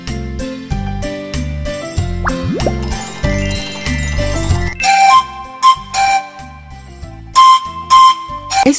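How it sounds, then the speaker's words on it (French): A flute-like melody of bright, whistly notes sounds in a cheerful children's game, with plinking tones and short glides backed by a bouncy bass pattern, the notes becoming more isolated toward the end. "On dirait plutôt une flûte!"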